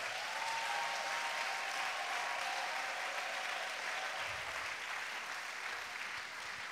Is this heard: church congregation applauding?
yes